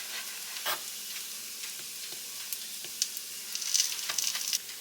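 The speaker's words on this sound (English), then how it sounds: "Got my onions back here and they are getting crispy, and that is how I want mine." Onions cut into strips crackle and sizzle as they fry toward crispness in a pan, a steady soft hiss with scattered pops and a few sharper spatters near the end, all close up and fairly quiet.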